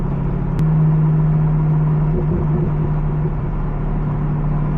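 A C5 Corvette cruising on a highway, its engine giving a low, steady droning burble with a constant hum and road rumble heard from inside the cabin, loud and unbroken throughout.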